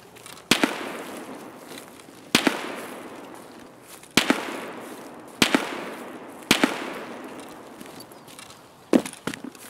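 Gunfire in the Escape From Tarkov video game, with about seven sharp, loud shots spaced a second or two apart, each leaving a decaying echo tail, and a quick double shot at the end.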